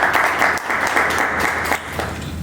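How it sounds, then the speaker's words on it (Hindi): Enthusiastic audience applause at a Rotary Club International Women's Day debate competition, many hands clapping together loudly and continuously, with a brief dip before it carries on. "तो इनके लिए ज़ोरदार तालियां।"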